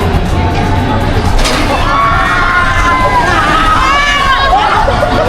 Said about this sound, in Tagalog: narinig niyo yung mga sigawan nila tsaka yung extreme na bagsak na yun